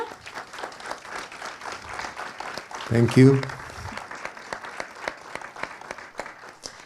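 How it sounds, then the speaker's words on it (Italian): Audience applause for the director of the film Peacemaker at the Pordenone Docs Fest, a dense steady clapping that runs throughout, with someone briefly speaking over it midway. "Colgo l'occasione innanzitutto per chiedervi di fare un applauso"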